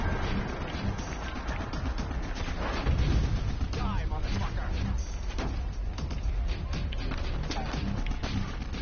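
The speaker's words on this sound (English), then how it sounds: "I'm getting shot at." Gunfire aimed at the player in the zombie game Dying Light, dense and continuous with sharp cracks and crashes over a steady loud din, mixed with other game sounds.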